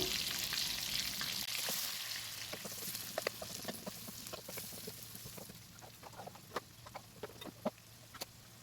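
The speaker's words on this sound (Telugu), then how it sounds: "ఆనియన్స్ అండ్ పచ్చిమిర్చి కూడా దీంట్లోనే యాడ్ చేసుకొని కొద్దిగా ఫ్రై చేసుకోవాలి." Chopped onions and green chillies frying in a pan for a gongura dried-prawn dish: a soft, steady sizzle, with sharper spatula clicks and taps growing more frequent toward the end.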